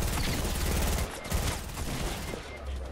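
Rapid video game gunfire in a chaotic car-stealing driving game, loud dense bursts filling the whole moment with no pause.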